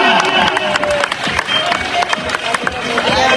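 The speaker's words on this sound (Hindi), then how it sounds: "अब होनी चाहिए भरपूर तालियां" A crowd at a wrestling championship event claps and cheers loudly in a dense, continuous burst of applause with scattered shouts.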